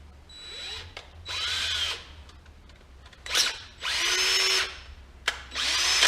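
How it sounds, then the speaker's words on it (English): A power drill whirs in repeated bursts, spinning a metal jack stand repair piece, spinning up and winding down several times with short quiet gaps between runs. "Now I'm going to put it in my drill."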